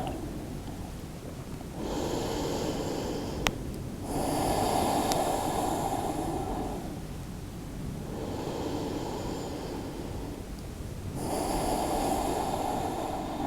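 Deep breathing during a yoga flow: slow, loud inhales and exhales alternate in long, even cycles of a few seconds each, close up and breathy, with a brief snort-like catch partway through.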